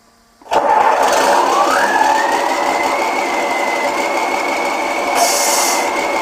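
A sound unit inside a radio-controlled model truck plays a simulated engine start, then a rising rev that settles into a steady, buzzing idle, loud and close with no talking.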